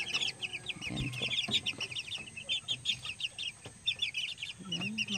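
Three-week-old Golden Boy sweater chicks peeping in a brooder, a dense flock of rapid high chirps repeating throughout, with someone speaking softly over them.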